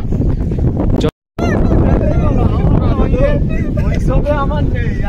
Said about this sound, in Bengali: এত সুন্দর হাওয়া দিচ্ছে, ঠান্ডা ঠান্ডা ওয়েদার